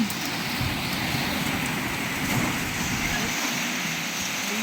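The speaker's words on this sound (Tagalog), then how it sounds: "Grabe yung ulan." Dense, steady hiss of heavy rain pouring down without letup, loud and continuous throughout.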